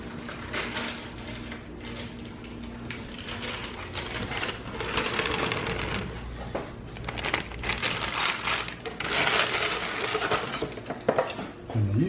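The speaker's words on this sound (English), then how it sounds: "the first thing you want to do is stir together the mix and the yeast" Italian herb flatbread mix and yeast being stirred together, a busy continuous scraping and rustling with rapid ticking taps that swells and fades, close and moderately loud.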